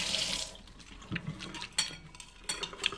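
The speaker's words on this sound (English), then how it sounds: "I'm going to wash my hands a little bit." Tap water runs and splashes as hands are washed in a kitchen sink while cooking a venison crockpot meal, with a few sharper splashes and clinks over a steady close stream.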